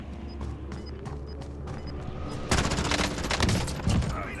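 Gunfire in a shooter video game, with faint clicks at first, then a loud burst of rapid shots in quick succession near the end.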